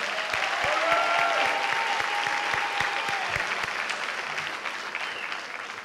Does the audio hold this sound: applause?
yes